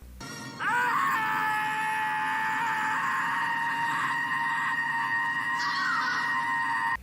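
A man screams in distress in a scene from the Torchwood TV drama, performed by an actor: one long, strained, wailing cry held for several seconds at high intensity.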